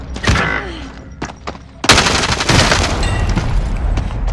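Gunfire in a Call of Duty: Warzone match, scattered sharp shots at first, then a loud burst of rapid automatic fire and booms that roll on continuously, with brief radio-style voices mixed in.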